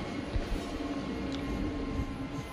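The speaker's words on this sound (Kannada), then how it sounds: "ನಮ್ಮ ಟ್ರೈನ್ ಈಗ ಟೇಕಲ್ ರೈಲ್ವೆ ಸ್ಟೇಷನ್ಗೆ ಎಂಟ್ರಿ ಆಗ್ತಿದೆ." Steady low rumble of a MEMU train rolling into a railway station with clattering wheels and a faint high whine, heard from inside, continuous throughout.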